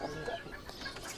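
Giant-breed chickens kept for show, meat and eggs cluck softly in a farmyard, a few quiet, scattered calls over a low background hum.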